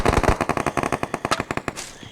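M4 rifle in a video game fires a rapid burst of sharp, evenly spaced shots, loud and up front, with a brief tail after the last round.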